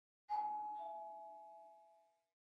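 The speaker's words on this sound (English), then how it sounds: "Doorbell." A single chime of a doorbell rings out in a video game puzzle level, one clear tone that rings and slowly decays over about two seconds, with no voices over it.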